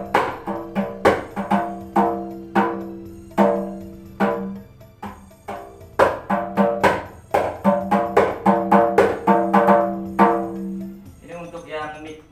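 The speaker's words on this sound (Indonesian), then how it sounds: "Ini untuk yang tam mika ya." A hadroh tam frame drum with a mika plastic membrane is struck in a lively rhythm of sharp, ringing hits, close and loud, with a short burst of talk at the very end.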